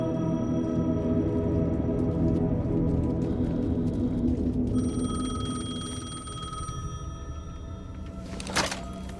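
Telephone ringing in Alan Wake 2, a sustained bell-like tone over a loud, droning ambient hum, shifting to a higher ring partway through and ending with a sharp click.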